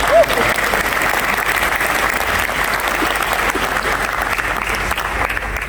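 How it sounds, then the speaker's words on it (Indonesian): Steady, dense applause from a large audience at an Indonesian political party (PSI) speech, loud and continuous throughout with a faint crowd murmur underneath. "Tepuk tangan dulu dong."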